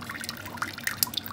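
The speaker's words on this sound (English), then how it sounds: "Pour the water on it." Water is poured and splashed onto an aquarium RODI flood-guard sensor, giving brief quiet drips and small trickling splashes over soft background noise.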